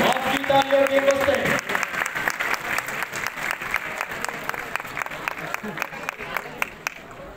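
An audience claps at a horse riding display during a cadet college parents' day in Larkana, with a voice or tones over the first second and a half, then scattered sharp hand claps continuing at moderate level.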